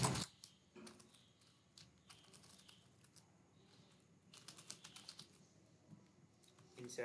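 Quick, light keystrokes patter on a computer keyboard in irregular bursts, close and fairly quiet, with brief pauses between runs of typing.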